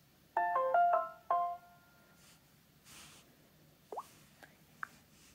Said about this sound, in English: Here are the notification sounds you will be greeted with on default.